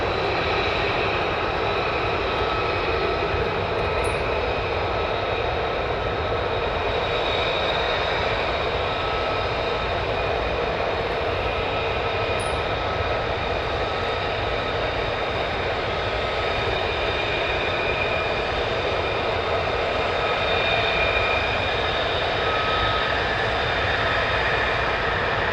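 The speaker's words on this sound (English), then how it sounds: "So enjoy the F-35s, guys." F-35 fighter jets at RAF Lakenheath produce a sustained, loud engine roar with a steady whine on top, unbroken and close for the whole stretch.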